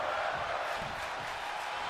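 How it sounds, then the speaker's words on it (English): A large arena crowd cheers at a women's title match in WWE 2K25, a dense, steady roar that fills the space and keeps up without a break. "But the crowd loving what they're seeing."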